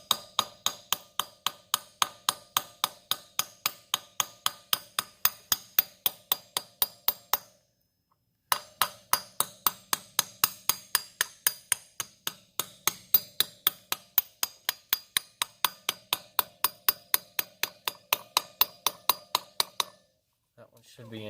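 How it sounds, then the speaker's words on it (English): Steady rapid metallic tapping as a hammer drives a socket against a dirt bike wheel bearing to seat it, dozens of close, regular sharp clinks with one brief pause midway and a short stop near the end. "Grab the socket and the hammer."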